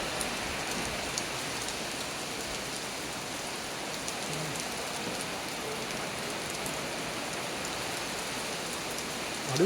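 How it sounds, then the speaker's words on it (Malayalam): Heavy rain pours steadily onto water at a Kerala fishing spot, a dense continuous hiss that stays even and constant throughout with no voices. "അത് വെള്ളത്തിലെ മഴ നല്ല കിണ്ണം മഴയാണ്."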